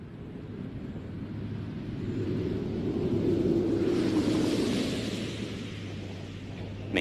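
Space Shuttle Atlantis touching down on the runway at about 320 mph, heard as a steady, broad roaring rumble that swells in the middle and eases off, with a sharp thump at the very end.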